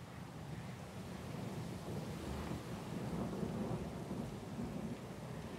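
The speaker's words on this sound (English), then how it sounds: "Lost and alone in the storm?" A thunderstorm at sea in the video game Pillars of Eternity II: steady roaring rain, wind and surf with low rumbling thunder, continuous and fairly quiet, with no voices.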